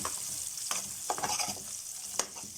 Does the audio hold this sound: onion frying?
yes